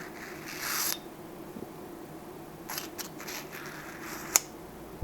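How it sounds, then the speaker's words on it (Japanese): Aluminum parts of an ANTOU S ballpoint pen rubbing as its cap is drawn off, a soft metallic slide followed by a few small scrapes and a sharp little click, close and quiet with no talk. "ここでアルミ同士が擦れる音もすごくいいんですよ"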